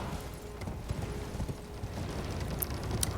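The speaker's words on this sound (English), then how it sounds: "A lot of running on the horse." A horse galloping in the video game Elden Ring gives a steady, rapid clip-clop of hooves over a continuous low rumble of game ambience, with a couple of sharp high ticks near the end.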